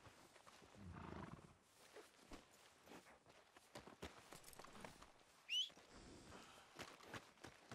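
A horse walks in the Red Dead Redemption 2 video game, with quiet, uneven clip-clop hoofsteps, a short neigh-like snort near the end and soft ambient background.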